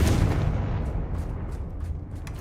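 A deep, booming blast from the Confringo fire spell in Hogwarts Legacy, loud and rumbling at the start and then fading into a long low roar with faint crackling debris.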